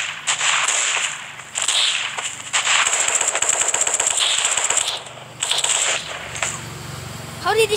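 Gunfire in the mobile shooter Special Forces Group 2: loud rattling automatic bursts and crisp shots, nearly continuous with short gaps, ending in a few quieter mechanical sounds.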